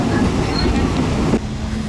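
A Thai passenger train rolls along with a loud, steady rumble and roar from the carriage, then the noise drops sharply as it eases toward a stop, leaving a quieter hum.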